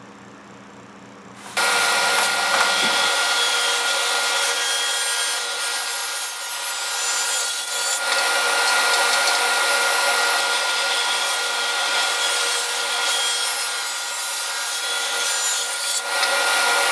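A mahogany board fed against a power saw blade in a woodshop, a loud continuous whining cut that starts abruptly after a quiet moment and runs steadily, with slight dips in pitch as the wood is pushed through.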